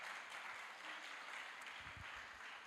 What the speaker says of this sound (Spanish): Un aplauso para el Gonza ahí que pasó vergüenza.